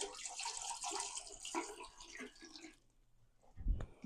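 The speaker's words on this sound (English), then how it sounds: "So we'll just pour this in." Liquid poured into a toilet while winterizing a bathroom: a continuous splashing, gurgling trickle that thins out, followed by a low thump, close and fairly quiet.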